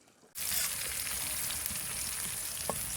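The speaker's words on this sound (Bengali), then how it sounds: "এবার পেঁয়াজ রসুনটা একটু নাল করে ভেজে নেবো।" Chopped onion, garlic and dried chilli hitting hot oil in a pan, a sudden burst of loud sizzling that settles into a steady, close crackle with a faint clink near the end.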